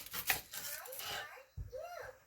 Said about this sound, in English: So I always cut the onion end off first.